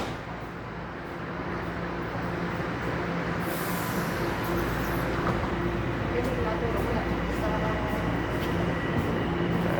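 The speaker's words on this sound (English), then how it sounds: "my train came." A downtown Toronto subway train pulls into the station with a loud, continuous rumble and rising hiss of brakes, the roar filling the whole span close by.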